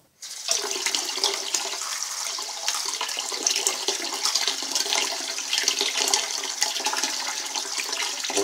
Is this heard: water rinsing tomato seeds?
yes